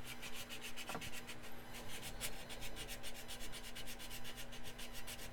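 A hand file drawn back and forth across a part for a glass construct build, a fast, steady rhythmic rasping of repeated strokes, close and continuous with no talk.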